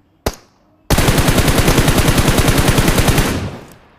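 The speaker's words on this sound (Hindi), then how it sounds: "तुम बड़े फायर कर रहा है बोट वाले" Video game gunfire: one sharp shot, then a long rapid automatic burst with a steady rhythm that cuts off after about two and a half seconds. It is loud and close, with no voices.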